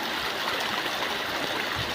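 Floodwater rushes and streams all around a village during heavy rain, a dense, continuous close roar of flowing water with no talk.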